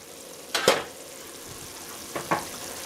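Onion and garlic with a pinch of salt softening in a pan, a low steady sizzle with two short bursts of stirring or scraping.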